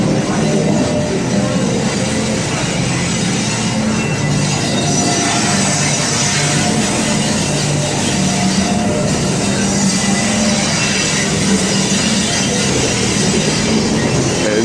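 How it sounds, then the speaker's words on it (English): A New York City subway shuttle train between Grand Central and Times Square pulls into the station, rumbling steadily and loudly, a continuous roar of wheels and machinery with faint metallic squeals, no voices. "as it pulls into the station. This is the shuttle train between Grand Central and Times Square Port Authority."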